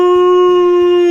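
Frank the Wonder Dog lets out a loud, close, sustained howl at a children's library show, one long steady tone with faint yips beneath it.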